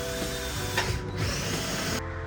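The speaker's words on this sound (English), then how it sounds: "Right here is where I need to drill it." A steady whirring power drill runs continuously, close by, with a brief change in pitch near the end as it cuts.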